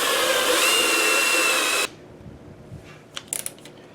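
A loud, steady power drill whine runs continuously while boring a 1.5 inch hole in a drum frame, then cuts off abruptly, leaving quiet room noise and a few faint clicks and rustles.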